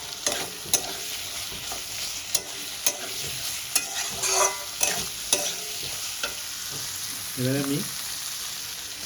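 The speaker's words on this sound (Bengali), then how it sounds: "আর আলুর সঙ্গে দিয়ে ভালো করে কষিয়ে নেব।" Potatoes stir-fry in a pan under a constant sizzle, with repeated sharp scrapes and clacks of a spatula at an uneven rhythm, and a brief spoken remark in between.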